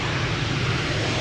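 KLM Boeing 737-700 on the Schiphol runway just after touchdown with thrust reversers deployed, a dense, loud, sustained jet roar that holds steady for about a second with no voices.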